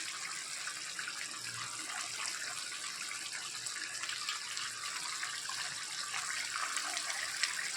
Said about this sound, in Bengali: এবারে ওর মধ্যে আমি একটু জল ঢেলে দেবো।